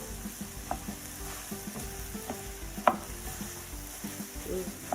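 Cooked rice being stirred into vegetables in a hot frying pan, steady quiet sizzling with soft scraping strokes and a few sharp utensil clicks against the pan, close up with no talking.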